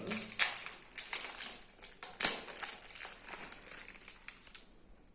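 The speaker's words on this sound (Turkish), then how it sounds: "Oyun hamurumuzu açıyoruz." A play dough container is opened by hand, a run of crinkly snapping and plastic crackling sounds, close and fairly quiet, with several sharp clicks.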